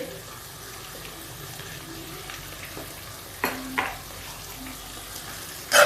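Egg poriyal in a pan after salt goes in, a continuous soft frying hiss with a couple of brief stirring scrapes and a sharp clatter at the end, close and steady, no talk.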